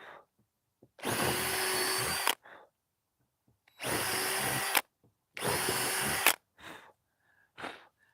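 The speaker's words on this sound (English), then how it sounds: "I'm drilling 15," A power drill bores into a boat during repair work, running in three loud bursts of a second or so each, separated by quiet gaps with faint clatter near the end.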